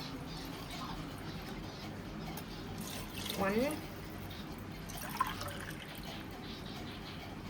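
Water pours into a rice pot in a brief filling gush that rises in pitch, while a person talks nearby.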